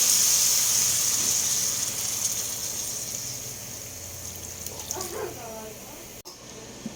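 Water runs steadily while a tuna head and shrimp dish is being cooked at home. A bright hiss is strongest at first and then fades, with voices and household noise around it.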